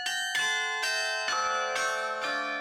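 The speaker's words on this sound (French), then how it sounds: "Jacques Martel fait résonner les 50 cloches du carillon du beffroi de Bergues" The fifty carillon bells of the Bergues belfry ring out a slow melody, six or so clear struck notes about half a second apart, each ringing on under the next, fairly faint and without voices.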